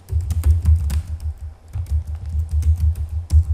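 Rapid clattering keystrokes on a computer keyboard as network switch commands are typed, a steady close run of taps with a brief pause midway and no talking.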